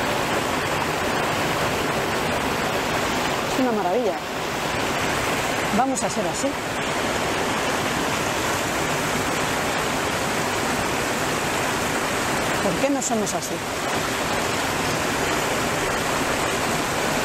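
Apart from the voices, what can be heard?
water flowing and falling in a stream or waterfall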